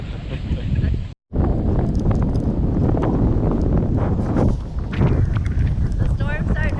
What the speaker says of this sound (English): The storm's starting to roll in. It's super windy now.